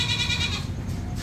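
Goats on a farm holding a Hyderabadi and Sojat cross herd bleat nearby in a steady, continuous murmur of calls, with rustling farm background and no clear talk.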